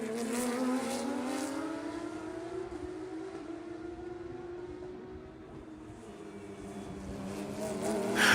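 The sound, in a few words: Porsche race cars racing at Circuit of the Americas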